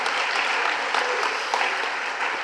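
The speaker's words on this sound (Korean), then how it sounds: "영광의 박수 올리겠습니다" A church congregation claps at a 30th-anniversary revival meeting. The applause is loud, dense and sustained throughout, with no talk over it.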